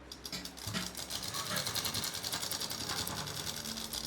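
A sewing machine stitches fabric up close, starting after a brief pause and then running in a fast, steady, rattling whir until the end.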